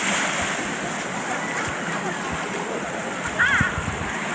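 Calm sea washing onto a white sand beach at Baybay Norte, Sual, Pangasinan: a continuous soft wash of gentle surf with a light breeze and a slightly louder splash near the end.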